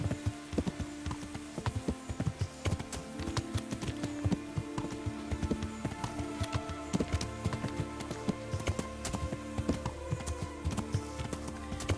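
Rapid, rhythmic hoofbeats of a galloping horse clatter steadily throughout, with a constant layered background of game music and ambience, in the video game Kingdom Come.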